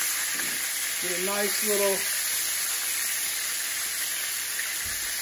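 Beef tenderloin steak frying in a pan with fresh garlic while hot oil is spooned over it, a loud continuous close sizzle; someone speaks briefly over it.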